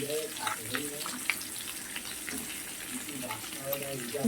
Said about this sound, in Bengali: আলু ভাজতে ভাজতে আমি হচ্ছে যে পেঁয়াজটাও দিয়ে দিচ্ছি একটা পেঁয়াজকে কুচিয়ে রেখেছিলাম